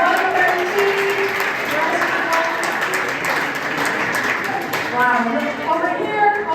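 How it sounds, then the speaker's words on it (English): Audience applause at a charity auction for classroom donations, a steady roar of clapping from a crowd in a hall, with an auctioneer's voice talking over it throughout. "Let's keep a round of applause going for these generous donations"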